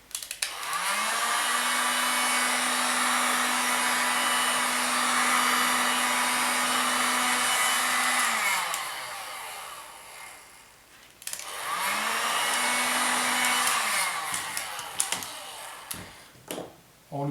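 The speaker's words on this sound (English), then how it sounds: "You can use a heat gun." A heat gun blows hot air in two steady, loud bursts of whooshing hiss, each with a motor whine that rises and falls. The first runs about eight seconds and the second about three, separated by a brief quiet gap.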